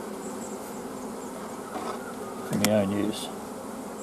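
Steady hum of honey bees at an opened hive, a constant drone with a brief louder buzz as one flies close, under a short bit of speech.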